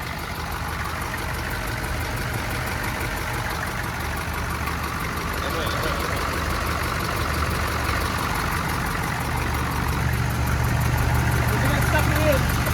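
A Ford turbo diesel truck engine, previously dead, runs steadily on its own power with a continuous low idling rumble throughout, fairly close, while other trucks and talk may sit faintly in the background.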